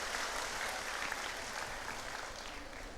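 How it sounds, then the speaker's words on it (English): An indoor audience at a centenary celebration claps for the provincials, a sustained, even wash of many hands applauding throughout, moderately distant and without speech. "Can we give a loud round of applause for all our provincials and the"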